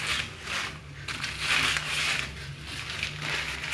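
A mirror is wiped with damp newspaper after a light spray of water, giving a close, steady papery swish and scrub in several broad strokes with no talking.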